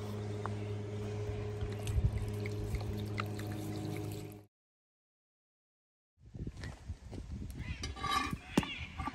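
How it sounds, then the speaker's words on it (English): Red wine pours steadily into a red sauce at a campsite cooking setup for about four seconds, then a brief silence, then soft clinks and stirring movement. "one thing you definitely have to put in your red sauce is some red wine. So let's pour that in"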